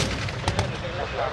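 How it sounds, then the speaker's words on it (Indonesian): Artillery pieces, including KH-178 and 105 mm towed guns and 76 mm mountain guns, fire smoke rounds at an Indonesian Army combat demonstration in Baturaja in 2015: two quick distant booms over a constant background din. "meriam KH-178, meriam 105 Tarik, dan meriam 76 Gunung menembak tabir asap di sasaran 1"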